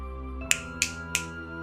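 Three crisp finger snaps, evenly spaced about a third of a second apart, stand out sharply over a steady tonal hum.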